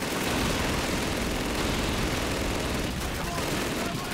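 Sustained, dense machine gun fire in Call of Duty 2, a loud unbroken roar of rapid shots filling the whole moment, with a voice faintly mixed in.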